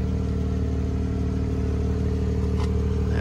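A 2018 Porsche 911 GTS with sport exhaust idles steadily, a loud, even engine rumble with a low throbbing hum that holds constant throughout, with no speech.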